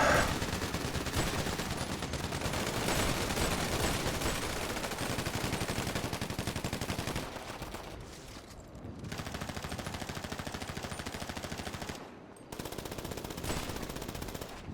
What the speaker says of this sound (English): they say you gotta shoot in the air for your fallen brothers and sisters